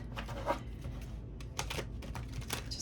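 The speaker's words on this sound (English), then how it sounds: "Giving these cards a really good shuffle." A deck of cards being shuffled close up, with quiet riffling and brief flicking bursts in an otherwise calm room.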